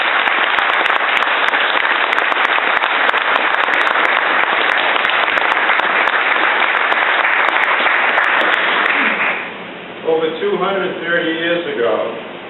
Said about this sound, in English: I'd like a round of applause for the USS Bainbridge.